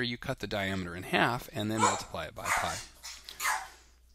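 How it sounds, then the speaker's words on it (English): A dog barks repeatedly indoors in sharp bursts while a person keeps talking over it, the barks loud and close. "Sorry about the dogs."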